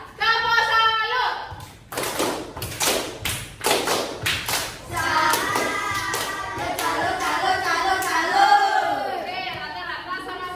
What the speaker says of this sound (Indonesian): Kasih tepuk salut untuk Wira